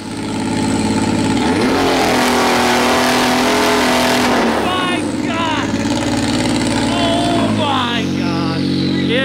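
A 350 hp Can-Am Maverick R with an Evo Stage 5 tune and launch control holds a loud two-step rev indoors, a harsh popping and crackling drone near the limiter. It drops and surges again in bursts, very close and dominating.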